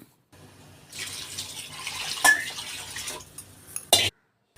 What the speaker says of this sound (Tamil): தேவையான அளவுக்கு தண்ணி வைங்க.